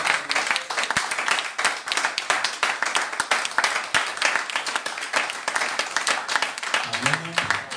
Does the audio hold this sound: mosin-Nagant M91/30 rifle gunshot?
no